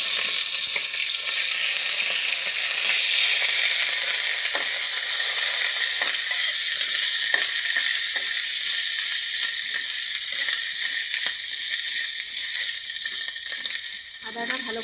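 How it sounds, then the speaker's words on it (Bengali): Chopped ginger fries in hot oil in a pan, a dense continuous sizzle with occasional scraping stirs, steady and close throughout. "আদাটা ভালো করে ভাজা হবে"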